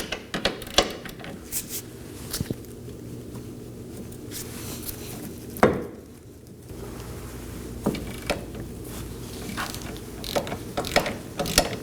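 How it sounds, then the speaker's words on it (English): Repeated ratchet clicking as a wrench breaks loose and turns the 21mm bolts joining the trailing arm to the knuckle on a 2018-2024 Chevrolet Equinox rear suspension, in irregular bursts with metallic knocks, close up and moderately loud. "locate our 3 21mm bolts, connecting the trailing arm and the knuckle together. I'm going to be breaking all of these free first."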